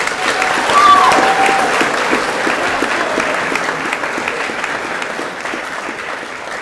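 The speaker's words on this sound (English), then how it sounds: "Round of applause for Puhi." Audience applause at a school co-curricular prize giving at Western Heights High, a steady wash of clapping from a large crowd filling the hall, peaking early then holding evenly throughout.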